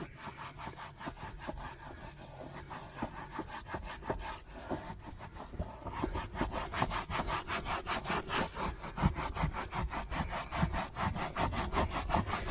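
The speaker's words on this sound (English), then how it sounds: "squirt it on, give it a good rub" Auto Glim leather cleaner is rubbed into a seat of a 2005 Jaguar XJ with a brush or cloth. The rubbing is brisk, repeated and close, and grows faster and more rhythmic partway through, with no speech.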